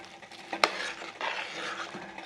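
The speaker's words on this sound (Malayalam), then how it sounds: "എല്ലാം കൂടി ഒന്ന് ഇളക്കി യോജിപ്പിക്കാം" A spoon scrapes and stirs through a thick dried shrimp theeyal curry in a pan, with one sharp clink of metal early on and a soft sizzle underneath.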